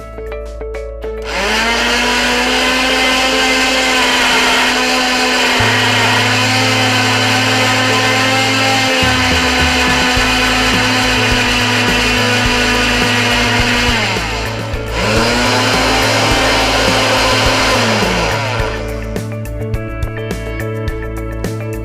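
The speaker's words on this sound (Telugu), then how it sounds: "ఇది మిక్సీ పట్టాలి." A kitchen mixer grinder blends raw mango with pepper and salt for a drink, its loud, high motor whine running steadily, cutting out briefly midway, then spinning up again before stopping.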